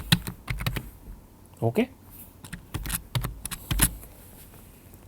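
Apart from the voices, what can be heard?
typing MATLAB code on computer keyboard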